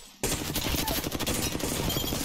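Dense, rapid gunfire from a Havoc and other weapons in the Apex Legends video game, a near-continuous barrage of loud shots that starts abruptly after a brief quiet moment and runs to the end.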